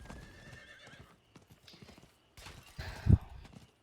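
Horse hooves clip-clop and a whinny in the Diablo IV video game, with a sharp loud burst near the end after quieter footfall sounds.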